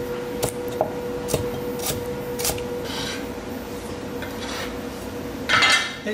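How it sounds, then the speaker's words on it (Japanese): Knife dicing peeled lotus root into small cubes on a cutting board, a series of sharp chopping taps with scraping and rubbing in between, then a louder clatter near the end. "まずレンコンを皮をむいて、大体5ミリくらいの角切りをします。"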